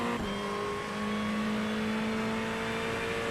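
Ferrari 488 GT3 Evo race car engine in iRacing at Snetterton, a steady loud high-pitched drone holding a constant tone throughout, close and continuous with no talk.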